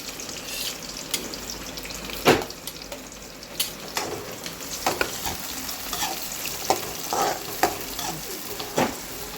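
Chopped onions and green chillies fry in a pan for chicken curry, a steady sizzle punctuated by sharp spoon taps and scrapes at irregular intervals, close and moderately loud.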